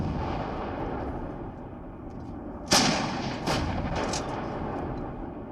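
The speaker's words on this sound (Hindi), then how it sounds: "बोफोर्स तोप के ये धमाके आज से 22 साल पहले कारगिल जंग की याद ताजा करते हैं" Bofors artillery guns fire three loud, sharp blasts in open air, each followed by a rumbling echo, over a steady background hiss.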